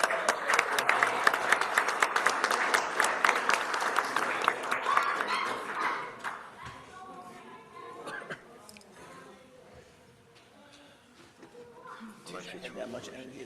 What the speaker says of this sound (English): I just want to have a round of applause for Pam